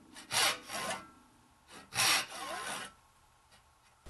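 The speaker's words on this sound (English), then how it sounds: "I'll start cutting the pins by working all the way down in one direction and then coming back and sawing the opposite direction pins." A hand saw cuts dovetail pins in wood for a tea chest, close up: two bursts of rasping back-and-forth strokes, each with a few quick passes, then a quieter stretch of light sawing, with no talk.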